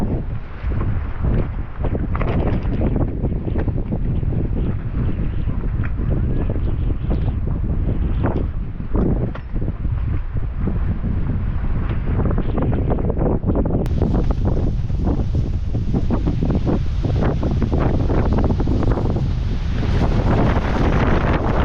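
Strong wind gusts across an open hillside campsite, buffeting the microphone in a loud, continuous roar with no talking.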